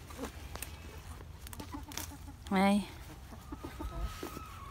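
A backyard chicken in a garden lets out one loud, drawn-out cluck or squawk midway, with faint scattered clucks and rustling around it against a steady low hum.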